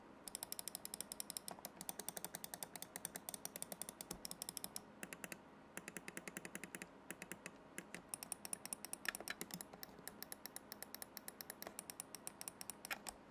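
A Cooler Master MasterMouse Pro L gives crisp, quiet left and right button clicks. They come in rapid, steady runs with short pauses between bursts, close and alone.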